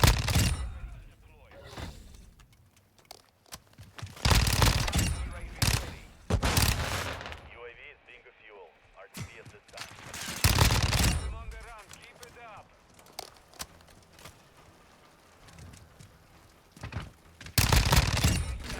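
Bursts of automatic gunfire and explosions from grenades on the Shipment map of a shooter video game come in repeated loud clusters, with a person talking intermittently between and over them.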